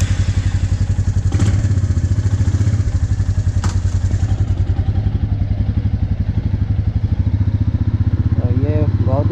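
A motorcycle pulls away from a guest house at the start of a solo night ride toward Nainital, its steady engine drone loud and close, with a couple of sharp thuds and a voice briefly heard near the end.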